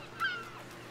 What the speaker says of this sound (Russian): Гусь.